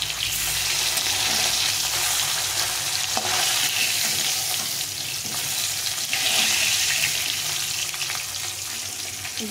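Hilsa fish pieces fry lightly in a pan, a dense continuous sizzle and crackle close by, with occasional soft stirring knocks and turning sounds; no talk.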